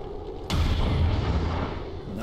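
In XCOM 2, a soldier named Fong fires a weapon: one sharp, heavy boom hits suddenly, then a loud rolling rumble and crackle follows and keeps going to the end.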